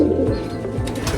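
Pigeons coo steadily inside a loft housing racing, roller, miler and fancy birds, a soft continuous warble of overlapping low calls with occasional flutters.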